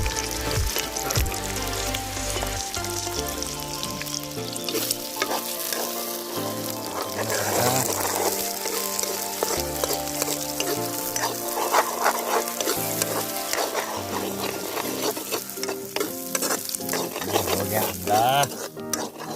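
Egg, onion and green chili fry in a pan outdoors, giving a continuous loud sizzle with stirring scrapes and clatter, and people talk intermittently over it.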